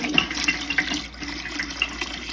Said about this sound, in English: And I'm putting water in here